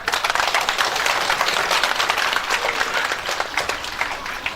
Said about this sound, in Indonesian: Tepuk tangan Pak.